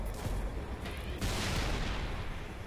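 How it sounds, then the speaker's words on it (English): Wraith tank cannon fire in the Halo Reach video game: dense, loud booming blasts that run continuously, with a heavier burst about midway through. "The wraith is shooting."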